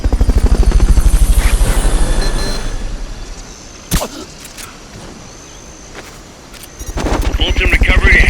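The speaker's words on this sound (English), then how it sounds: "Fulton recovery helicopter is complete" Helicopter rotor chop from a Fulton recovery helicopter in the video game Metal Gear Solid Peace Walker, loud and pulsing at the start, fading away, then swelling back near the end, with a sharp impact-like crack in the middle.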